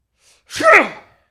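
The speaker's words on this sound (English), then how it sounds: "that was a real sneeze" A single sharp sneeze, preceded by a quick intake of breath, loud and close.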